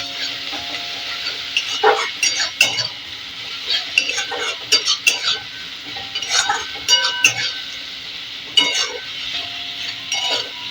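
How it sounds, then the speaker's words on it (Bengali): A spoon scrapes and clinks against a pan as onions and spice paste fry, with a soft sizzle under intermittent stirring strokes, close up and fairly quiet. "এবার এটাকে একটু ভেজে নেবো নাড়িয়ে"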